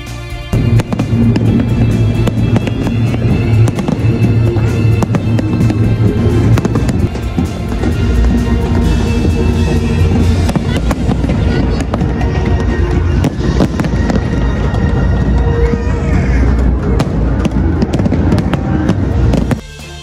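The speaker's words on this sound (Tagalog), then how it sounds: "ang makulay at napakagandang fireworks display na nagpapaliwanag sa kalangitan ng Lusail Boulevard" Fireworks display over Lusail Boulevard in Doha at the AFC Asian Cup, with loud, dense, continuous bursts and crackling booms filling the whole stretch, close and overlapping.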